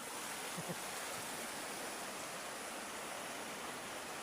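Floodwater rushing along steadily in a broad, even roar, with continuous churning wash and no speech over it.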